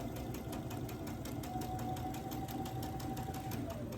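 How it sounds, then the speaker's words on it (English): A sewing machine stitches quilt fabric along a marked line for a Sunbonnet Sue block, running in a steady fast whirring rhythm with a constant mechanical hum, close and uninterrupted throughout. "Now I will take it to the sewing machine and I'll sew on that line again."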